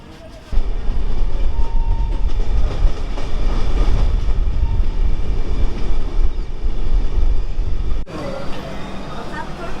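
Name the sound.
train running on rails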